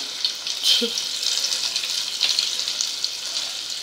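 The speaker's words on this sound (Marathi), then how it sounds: "तर यात घालायची आहे आलं लसूण ठेचा किंवा पेस्ट म्हणतात ज्याला." Ginger garlic paste fries in hot oil for a Gujarati kokam dal, giving a steady soft sizzle with a few faint stirring clicks and no voices.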